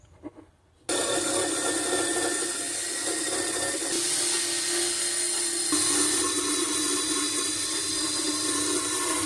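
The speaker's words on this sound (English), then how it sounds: "go over it with a drill again" A steady, loud whirring power drill grinding against a metal oil pan during cleaning on a turbo Honda Civic build, running continuously after a brief quiet start, with no voices.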